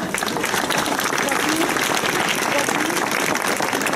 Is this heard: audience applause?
yes